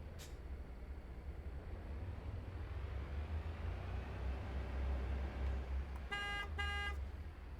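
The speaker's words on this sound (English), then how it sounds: "Got to try out the horn" Freightliner truck horn in American Truck Simulator, two short loud blasts near the end after a long stretch of low, rumbling engine drone.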